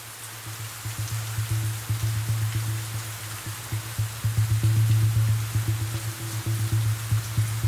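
Steady rain patters on a surface close by, with a constant low hum running underneath and soft irregular drips throughout.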